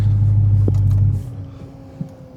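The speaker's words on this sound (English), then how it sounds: "Car shut off." A Dodge Hellcat Charger's low idling engine rumble runs steadily, then winds down and cuts out, leaving a quiet hum with a faint click afterward.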